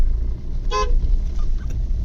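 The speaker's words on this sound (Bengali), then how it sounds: "আর হরেন দিস না, এবার গাড়ির তলায় চলে আসবে" A single short car horn toot rings out over steady engine and road rumble, sounded at goats crossing a rain-soaked road in the Dooars.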